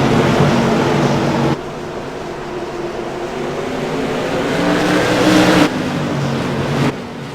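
Modified race cars in a CAN-AM Tour Modified Series race at Oxford Plains Speedway roar past in a loud, continuous blur of engine noise that swells and cuts sharply as they pass at speed.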